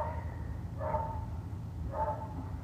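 A dog barks outside, two short muffled barks about a second apart, distant and faint over a steady low background rumble.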